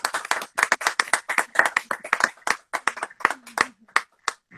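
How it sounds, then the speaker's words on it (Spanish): Presentation audience for the book 'Eterno amor' bursts into sustained clapping, dense and steady hand claps close by, a low voice briefly heard near the end. "Un gran aplauso a todos"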